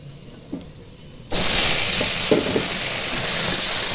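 After a quiet moment, khesari greens hit a pan of hot oil with browned garlic and a fried dried chilli, bursting into a loud, steady sizzle that continues close and unbroken.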